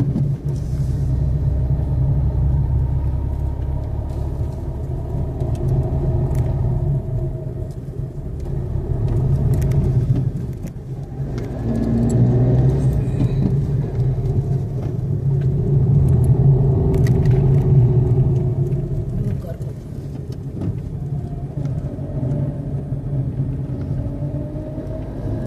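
A car with manual gears climbs the narrow Charmadi Ghat roads in the Western Ghats, its engine rumbling loud and continuous from inside the cabin, swelling and easing slightly as it drives.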